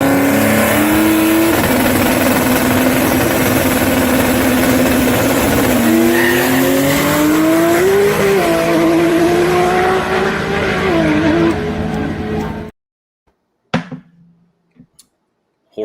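Turbocharged drag race car launches hard with its tires spinning, a loud continuous engine roar rising in pitch in stages for about twelve seconds, then cutting to near silence broken by a few brief clicks.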